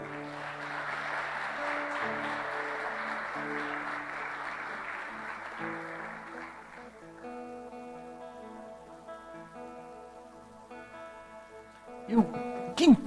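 In a church, a congregation claps for several seconds over sustained keyboard or organ chords. The clapping dies away as the music carries on softly, and a voice returns at the end.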